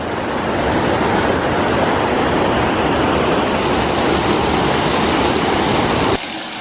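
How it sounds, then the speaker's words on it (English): Water pours down the side of a rock on New Zealand's Mavora Walkway, Greenstone and Routeburn track: a loud, close, steady rush that continues without a break and then cuts off abruptly near the end. "So cool, just running down the side of the rock."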